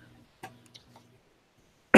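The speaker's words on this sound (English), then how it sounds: "Yeah, it's just an annoying cough." A single sudden loud cough bursts out at the very end after near silence with faint low murmurs and small clicks, close to the microphone.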